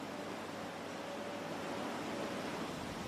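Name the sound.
flood water rushing in a raging torrent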